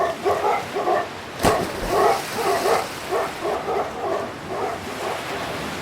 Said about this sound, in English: Then I heard the hounds, and I leapt far out into the sea.